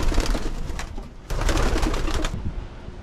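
Pigeons cooing in a nesting area, soft repeated throaty coos close by over steady background noise, with a brief rustle mid-way.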